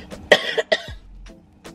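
A person coughs in a few short, sharp bursts close by, with a brief throat-clearing sound between them.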